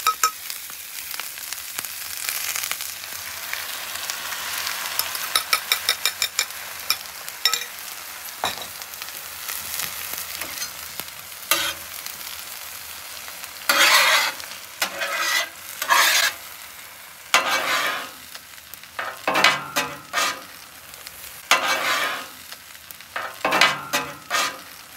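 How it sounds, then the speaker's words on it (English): Eggs frying and being stirred with wilted spinach in a pan for a breakfast scramble, a continuous close sizzle broken by repeated scraping stirs that grow more frequent toward the end, with no voices. "You're just gonna cook the eggs until the doneness you like."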